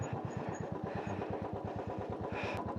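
A Royal Enfield motorcycle engine idles close by with a steady, even thumping pulse throughout, and a faint higher sound rises briefly near the end.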